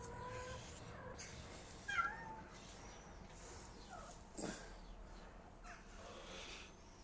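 A cat meows a few times at moderate distance amid faint room noise, with short vocal bursts scattered through the quiet.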